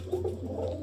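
Pigeons from a breeder's loft give a soft, low cooing that runs steadily through the short moment, close by with a faint hum beneath.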